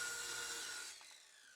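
A table saw with its blade tilted to 45 degrees bevel-cuts wood boards, a steady high whine that fades and drops off partway through, close and alone without voices.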